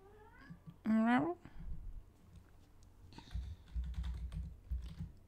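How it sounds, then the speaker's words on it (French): A pet cat meows once, a rising drawn-out call close by, followed by soft clicking and tapping like computer keys in a quiet room. "Je, me rends compte que c'est Loulou en fait qui miaule."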